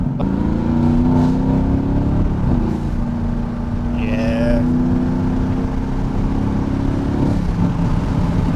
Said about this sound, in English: I like the little blow-off valve. Sounds pretty cool.